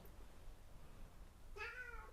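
A domestic cat gives a single drawn-out meow near the end, fairly close and clear over a quiet room background with a low hum.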